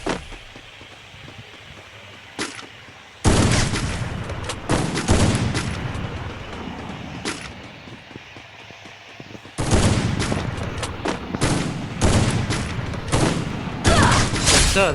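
Loud bursts of automatic gunfire from the Free Fire video game, rapid rattling volleys broken by a quieter gap, then several long sustained bursts near the end.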